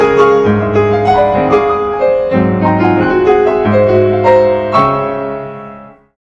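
Solo piano plays a lively Albéniz piece, Lavapiés, that mimics an organ grinder's street music, with bright repeated chords and ringing notes that fade out at the end, loud and clear.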